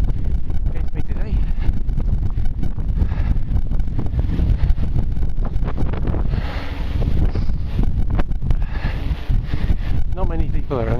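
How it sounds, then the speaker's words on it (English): Horse hooves clip-clop in a steady rhythm at close range in Red Dead Redemption 2 Online, with a horse whinnying and some ambient game tones, no one talking. "a massive headwind in me against me today"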